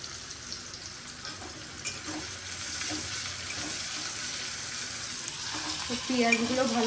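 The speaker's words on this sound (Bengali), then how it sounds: "এর মধ্যে এবার দিয়ে দেবো পেঁয়াজগুলো।" Onions tossed into hot oil with cumin and dried chillies, giving a steady, moderate sizzle that swells slightly near the end as they hit the pan, with no speech.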